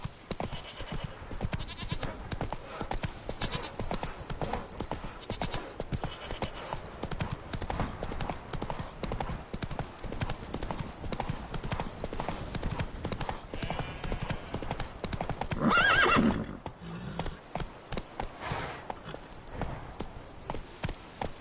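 Roach, a horse in the Witcher 3 video game, gallops in a steady, rapid clip-clop of hooves that continues the whole way, with a brief neigh rising near the end, moderately loud and close.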